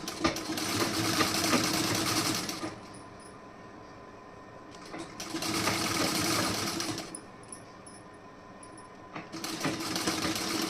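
A sewing machine stitches piping onto a neckline fabric in steady whirring runs: two long bursts separated by quieter pauses, then another run starting at the end, heard close and alone.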